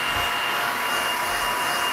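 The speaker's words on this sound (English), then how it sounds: "So just hit it with the blow dryer." A blow dryer on low heat drying acrylic paint on a canvas gives a steady, close, even whoosh with no pauses and no talk.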